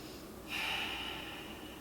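One deep, close breath drawn in sharply through the nose and held out in a long exhale while foam rolling the outside of the left calf, with no talking.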